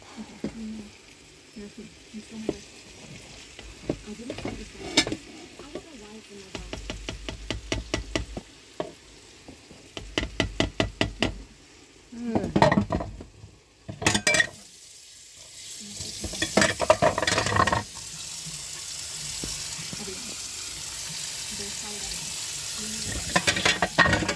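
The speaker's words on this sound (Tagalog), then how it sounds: "Harina at saka itlog mga idol hinalo ko." Flour and eggs being stirred together in a bowl, bursts of fast rhythmic clicking and scraping with pauses, followed by a running-water hiss, with occasional voices nearby.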